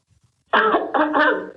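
A person coughs a few times in quick succession, close and loud, with rough throaty bursts after a brief quiet start.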